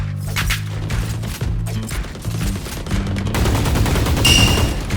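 Bursts of rapid gunfire from Valorant play fired through a smoke cloud, loud and dense with quick repeated shots and clattering game effects, no voices over it.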